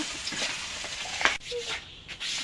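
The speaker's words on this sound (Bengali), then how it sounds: "বাকি মাছটা আমি উল্টে পাল্টে ভেজে নেব" Pangas fish frying in oil in a pan, a steady close sizzle with a few scraping stirs as the pieces are turned.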